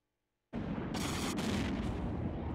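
Autocannon fire in an Eve Online space battle, a dense, steady roll of rapid booming shots that starts abruptly after a half-second of silence and continues at even loudness.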